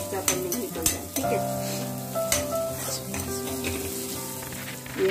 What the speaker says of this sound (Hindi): अदरक और लहसुन का पेस्ट, इसको भी अच्छे से फ्राई कर लेना है जब तक अदरक का कच्चापन नहीं निकल जाए